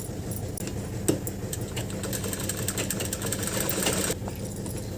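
A sewing machine runs steadily, stitching the side seams of a salwar in one continuous mechanical whir that holds at an even level throughout.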